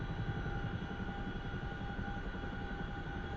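Inside a Chinook military helicopter in flight carrying an early warning radar: a loud, constant low rotor and engine drone with a steady mechanical hum and rhythmic throb filling the cabin, no voices.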